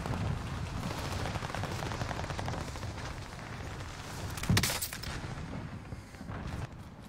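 Video game gunfire crackling steadily as a dense, muffled rattle of shots under a low rumble, with one sharper burst standing out near the end, all fairly faint.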